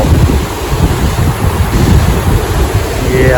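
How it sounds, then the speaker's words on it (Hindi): Foamy ocean waves surge up a beach, a steady loud wash of surf mixed with wind buffeting the microphone throughout, with no talking. "देखो देखो ये वेव आ गया यहाँ तक, पूरा झाग वाला पानी है।"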